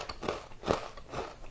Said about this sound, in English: So snap it. Pretty crisp cookie.